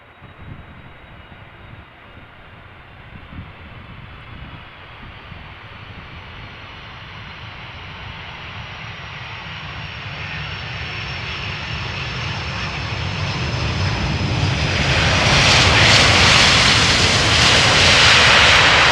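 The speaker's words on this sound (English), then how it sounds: "But first, KLM Cargo arriving from Frankfurt." A KLM Cargo plane arriving at Amsterdam Schiphol Airport in gusty crosswind, its engine roar growing steadily louder as it approaches and peaking in a loud, close rushing pass near the end.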